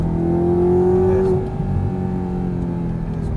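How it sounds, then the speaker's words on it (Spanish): An exotic sports car at full throttle, its engine note climbing steadily in a loud, close rising whine, then easing into a lower steady drone after a shift, with no voices over it. "Sigue acelerando a fondo."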